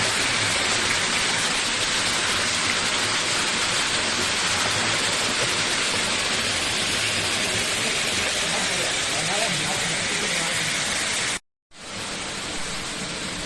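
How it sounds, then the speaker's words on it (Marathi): Spring water flowing down from a hill at a Maruti temple on a hilltop in Sawantwadi, a loud, steady rushing wash that continues unbroken apart from a sudden cut near the end. "मित्रांनो आता झऱ्याचा पाणी वाहून येता तर बघू शकता तुम्ही"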